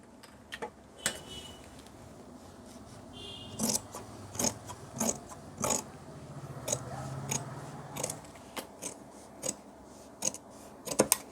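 Scissors snip through trouser cloth for men's narrow-fit pants, a series of crisp close cuts in an uneven rhythm, with soft rustling of fabric between snips.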